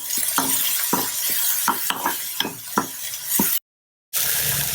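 Soaked moong dal and curry leaves stir-fry in a pan, a steady sizzle punctuated by a rhythmic series of sharp spatula scrapes and clinks, close and fairly loud before a brief cut to silence.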